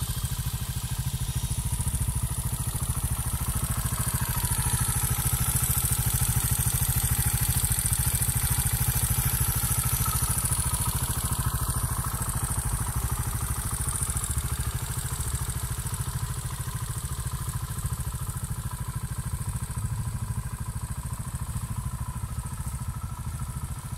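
Beta Alp 200 enduro motorcycle engine idling steadily and close by through the whole stretch, a constant mid-pitched whir and clatter with no pauses, riding out of a field of autumn crocus plants.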